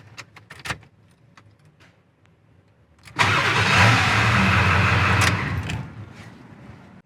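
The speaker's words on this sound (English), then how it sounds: "We're going to fire it up for just a second, see if the fluid level drops down" A 7.3L Power Stroke diesel engine on a truck fitted with a Saginaw steering pump cranks and fires after a few light clicks and taps, then runs briefly at a rough, loud idle for about two seconds before shutting down and fading out.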